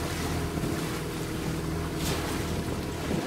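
A motorboat cruises on the sea off Balaklava in Crimea, its engine a low steady drone under strong wind buffeting the microphone and the rush of water and waves, continuous and fairly quiet, with no voices.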